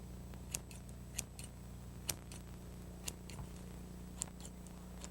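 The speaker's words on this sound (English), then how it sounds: "It's much easier to trim your cake with scissors than with a knife." Scissors trimming cake icing give quiet, isolated snips roughly once a second against a low steady hum, near and faint, with no talking.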